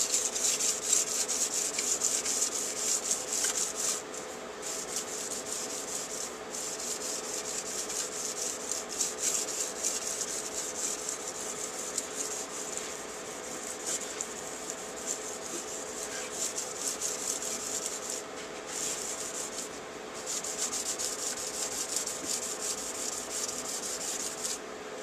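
A large Bolo machete is sharpened on a washboard-textured sharpening surface, with continuous close rubbing and rasping strokes over 25 seconds and a few brief pauses between strokes.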